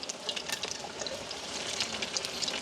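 Jackfruit-seed food sizzling and frying in a pan with oil, a steady close crackle broken by scraping stirs, no voices.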